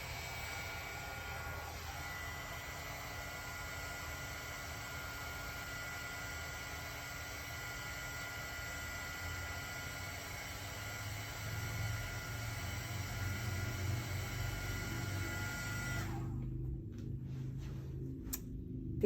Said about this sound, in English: you hear that noise? That's my heat gun